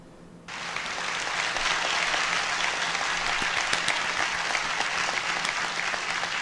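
Audience applause fills a large room, starting abruptly and holding as a loud, steady wash of clapping with no voices over it.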